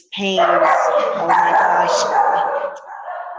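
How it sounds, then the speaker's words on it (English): Dogs bark loudly and repeatedly indoors in a house, close to the microphone, with sharp yips over someone speaking. "Excuse the dogs. They'll be quiet in a second."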